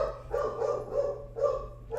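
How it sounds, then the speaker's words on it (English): A dog barks excitedly indoors as someone arrives home, a run of repeated close barks in quick bursts over a steady low hum. "my dog's going crazy"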